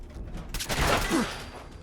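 Gunfire in a Fallout video game: one dense burst of rapid shots mid-clip, moderately loud over faint background noise, fading out afterward.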